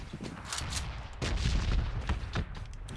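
Rapid bursts of Tommy gun fire in a video game rattle in uneven clusters across the clip, dense and fairly loud, with a heavier volley midway.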